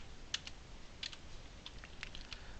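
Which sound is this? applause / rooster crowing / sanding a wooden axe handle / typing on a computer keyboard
typing on a computer keyboard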